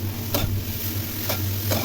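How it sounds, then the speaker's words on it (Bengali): A paste of onion, garlic, ginger, chilli, cumin and coriander with a little sugar frying in a pan, a close, steady sizzle broken by a few scraping stirs of a spoon, with no voices. "খুব ভালো করে নেড়ে নেড়ে সমস্ত উপকরণ ভেজে নিতে হবে"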